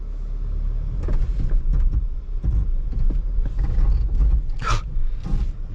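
A 2022 Jeep Grand Cherokee Overland climbs an off-road obstacle under throttle, close by, with a steady low engine rumble, creaking suspension and intermittent mechanical clunks.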